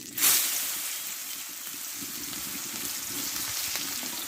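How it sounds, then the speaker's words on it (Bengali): Chopped onions sizzling in hot oil in a pan, added after dry red chillies, cumin and five-spice, cooking for an egg and potato curry; a steady close frying hiss with a brief louder burst at the start and no talking. "পেঁয়াজটা একটু লালচে করে ভেজে নেবো"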